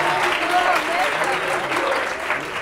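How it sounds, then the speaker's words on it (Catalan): Studio audience applause for contestant Carla on a Catalan TV letter quiz show, a steady dense wash of clapping lasting the whole moment, fairly loud with faint voices mixed in. "li fem un aplaudiment a la Carla"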